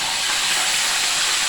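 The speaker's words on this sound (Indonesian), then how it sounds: "Selanjutnya goreng ikan yang sudah dimarinasi tadi." Marinated fish frying in hot oil in a wok, a loud, steady, dense sizzle that holds evenly throughout with no break.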